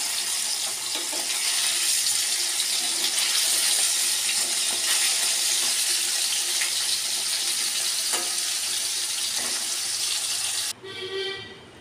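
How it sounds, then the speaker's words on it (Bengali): Koi fish frying in hot oil in a kadai, a steady close sizzle running continuously with occasional soft clinks and scrapes as the pieces are turned, then cutting off abruptly near the end. "तो आमी आस्ते आस्ते एके एके माछगुलो उल्टे देब, बेशी भाजबो ना"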